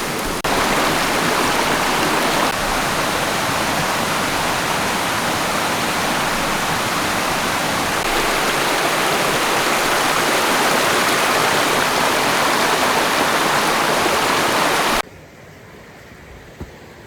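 A fairly deep stream swollen by recent rain rushes steadily over rocks, a loud continuous broadband roar lasting about fifteen seconds before cutting abruptly to near silence.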